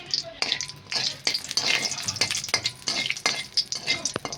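Cardamom, bay leaf and stone flower sizzle in hot ghee for ghee rice while a spoon stirs the pan. The frying hiss stays steady and close, broken by repeated scraping strokes, with no speech.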